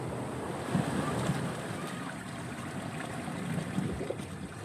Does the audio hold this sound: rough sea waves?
yes